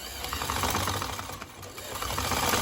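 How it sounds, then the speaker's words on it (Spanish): A sewing machine stitches the sleeves of a jacket with a steady, close, buzzing mechanical whir that runs continuously and without a break. "Y ahora estoy cosiendo las mangas."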